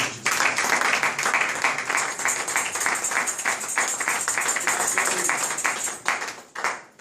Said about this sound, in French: Applaudissez pour le nom de Jésus